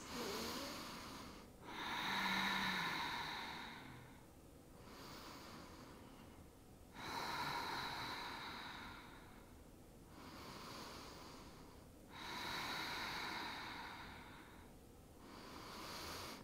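Slow, deep breaths come from a person holding a yoga pose, each long inhale and exhale rushing audibly through the nose at a steady rhythm, close and quiet with no talking.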